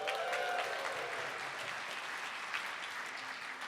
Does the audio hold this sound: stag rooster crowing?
no